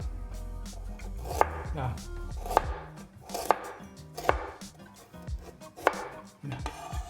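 A knife slices through a carrot on a cutting board, several crisp separate chops landing at an uneven pace over a quiet background, fairly close.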